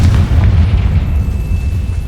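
A Confringo spell explosion in Hogwarts Legacy, a loud, deep booming blast that rolls on with a low rumble for about two seconds, with no talking.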